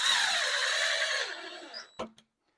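A power drill drives a screw into the back brace of a Maloof-style wooden rocking chair, whining loudly up close for over a second, then winding down, followed by two quick clicks as the trigger is released.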